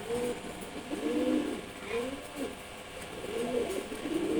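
A pair of Silver Gorra pigeons coos in low, rolling phrases that repeat several times, close by and fairly soft, over a steady background hum.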